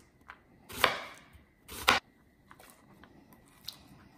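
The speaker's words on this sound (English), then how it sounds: "I've just got 1/2 onion here, so that will do. Just cut into slices." Half an onion cut into slices with a knife on a board, two crisp chopping strokes close up, then quieter light taps against a mostly silent background.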